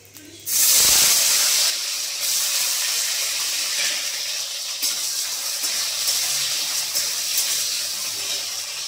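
Potatoes drop into hot oil that already holds panch phoron five-spice and two dried chillies, for a Bengali shukto. A loud, abrupt sizzling hiss bursts in, then settles into a steady, sustained frying roar.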